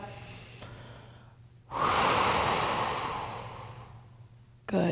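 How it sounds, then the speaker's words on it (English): A deep, loud breath taken during a morning mobility stretching routine, a long rushing exhale that swells suddenly and slowly fades, followed by another intake at the end, close to the microphone. "One more breath."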